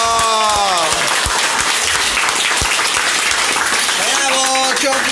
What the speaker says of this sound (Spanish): le voy a volver a pedir que le brindemos ese aplauso